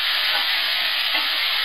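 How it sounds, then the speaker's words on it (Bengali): Chilli powder and spices frying in a pan for a mixed dal, a steady bright sizzle that stays even and close with no talking. "দেখুন আমি হাফ চামচ লঙ্কার গুঁড়ো দিয়ে দিলাম, মশলাটা আমার কষা হচ্ছে।"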